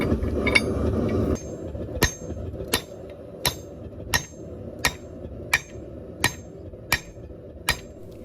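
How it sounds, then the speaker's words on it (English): A hammer striking a hot cut chisel to cut excess material off forged steel for a kiridashi knife, about ten sharp ringing metallic blows at a steady rhythm over a low continuous roar, close and without talk. "I'm going to use a hot cut and cut off all the extra material"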